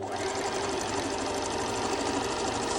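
A sewing machine stitches fabric with a fast, steady mechanical whir and rapid needle clatter, running continuously up close without talk.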